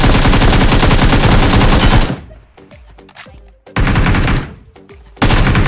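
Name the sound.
gunfire in a video game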